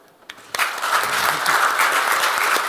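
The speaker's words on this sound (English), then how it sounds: "Please, a round of applause for our panel." Conference audience applauding a panel at a Geneva assembly, starting with a few scattered claps and quickly building into sustained, even applause from a large room.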